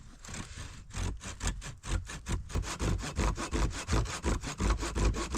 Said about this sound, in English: I'm gonna try to split this tree here with my saw